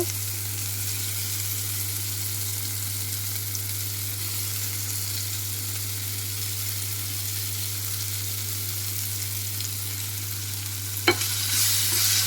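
Prawns fry with garlic and masala in a pan, producing a steady, even sizzle with a low background hum and a single stirring knock near the end.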